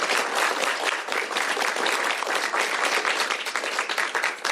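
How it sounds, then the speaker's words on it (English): An audience applauding at a governor's bill signing ceremony, a thick, even wash of clapping from many hands that carries at full strength throughout. "First round of applause once again for Representative Berry."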